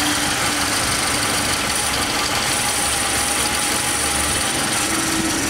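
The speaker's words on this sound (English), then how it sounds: "The motor actually sounds really good." A 1950 Ford Custom Coupe barn find with its engine running, a steady close idle rumble with constant vibration and no pauses or revving.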